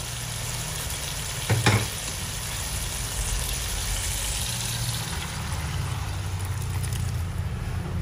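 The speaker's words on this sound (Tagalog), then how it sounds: "Ilalagay na natin mga mars ang ating pinakuloang munggo" Boiled mung beans tipped into a pan of sautéing chorizo sizzle with a steady, close frying hiss, briefly broken by a clatter as they drop in, then settling into continuous bubbling.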